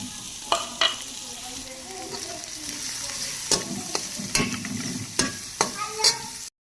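Chicken roasts with ground garlic in a pan, a low continuous sizzle broken by several sharp spoon scrapes and knocks as it is stirred, close, with no talking.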